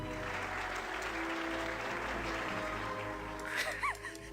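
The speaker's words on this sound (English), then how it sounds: "Everybody laughs and applauds." Crowd applause from villagers in the city-building game Farthest Frontier, a steady dense clapping that fills the clip, with a few game interface tones near the end.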